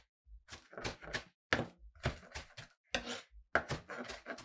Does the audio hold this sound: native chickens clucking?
no